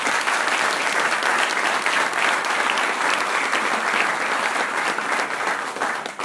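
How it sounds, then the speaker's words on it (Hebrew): A crowd at an alumni gathering applauds a rabbi with full, steady clapping that holds evenly and then tapers slightly at the close. "מחיאות כפיים."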